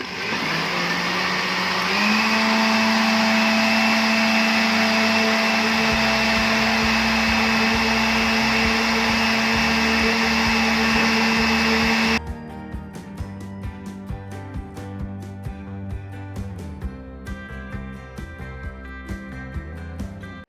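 An electric mixer blends cake batter ingredients for a flourless Henriss chocolate cake, a loud steady motor whine with a constant hum that shifts character partway through, then runs on with lighter rattling.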